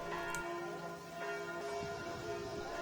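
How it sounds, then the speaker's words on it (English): A church bell tolls at a distance with long ringing tones that sustain and overlap, heard faintly over steady outdoor ambience. "I suppose the bell tolling adds to the atmosphere."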